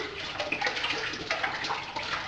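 Cold water pours from a bottle into stovetop brewing pots of hot wort, a steady splashing gush heard up close and alone for a couple of seconds.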